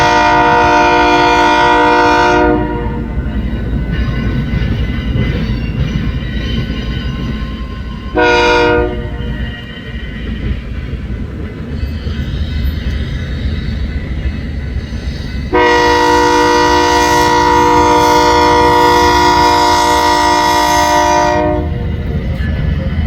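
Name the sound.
BNSF train with horn crossing the diamond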